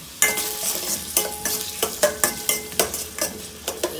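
Onion is sautéed in oil for a white pumpkin kootu, with a constant sizzle and regular sharp spoon scrapes and taps against the pan in quick rhythm, close and clear, no voices.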